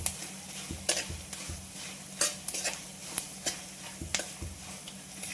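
Poha premix ingredients with turmeric powder stirred and roasted in a pan: a steady soft sizzle with a series of sharp spoon scrapes and clinks against the metal at uneven intervals, close and alone.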